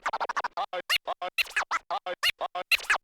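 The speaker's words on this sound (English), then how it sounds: "I found some DJ scratching samples that sound like this" DJ turntable scratching samples in a nu-metal style, a rapid run of short, choppy scratch strokes with sharp pitch sweeps, loud and close with brief gaps between each stroke.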